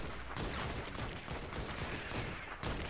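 The Dragon's Roar gun firing in Fortnite Save the World, a dense, loud, continuous roar of rapid shots and blasts that fills nearly three seconds without pause or talking.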